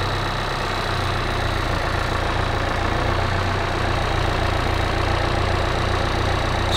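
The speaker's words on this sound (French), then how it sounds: "Je pense que c'est le meilleur véhicule, le tracteur." A farm tractor engine idles with a steady, close, low throbbing rumble that holds an even rhythm throughout, loud and without any talking.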